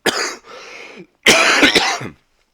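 A person coughs in two harsh bursts, the second a longer fit of several rapid coughs, close and loud, while recovering from an illness, with no speech over it.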